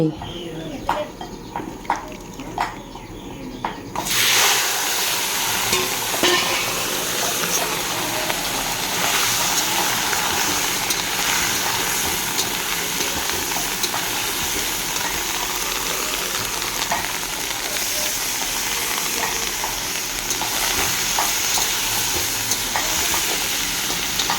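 Local fish boil in hot water in a pan, a steady hissing bubble that starts suddenly and continues, with birds cooing faintly in the background.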